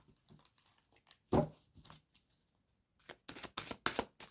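Oracle cards being shuffled by hand, with soft scattered riffles and taps and then a burst of quick crisp card flutters toward the end, close and quiet.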